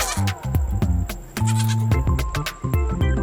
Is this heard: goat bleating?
yes